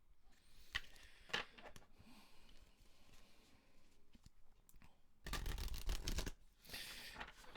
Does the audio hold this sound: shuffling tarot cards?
yes